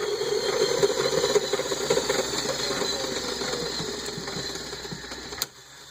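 A Lego 10-speed transmission running in reverse high gear gives a steady whirring, rattling buzz of meshing plastic gears close by, then ends abruptly with a sharp click.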